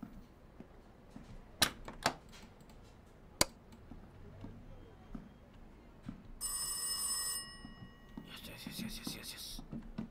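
A telephone rings in the horror video game Rise of Insanity, set in a dirty police station: two bursts of ringing trill, the second more broken, over quiet ambience with a few sharp clicks and knocks earlier.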